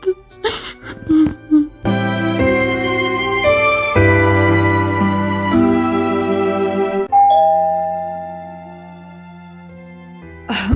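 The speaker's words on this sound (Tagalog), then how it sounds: "May nag-doorbell." A doorbell chimes loud and close, playing a multi-note ding-dong melody whose bright tones ring on and fade slowly. Brief vocal sounds come just before it.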